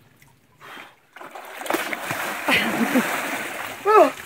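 Water splashes and trickles in short bursts as someone washes outdoors at a bivouac campsite, close and moderately loud, while people talk over it.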